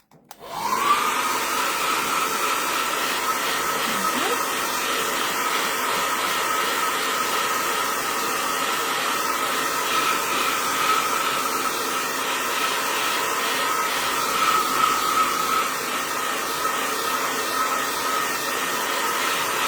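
A hair dryer blows on a mixed media artwork, running close and loud as a continuous whooshing roar. It starts abruptly and holds steady throughout, with no voices.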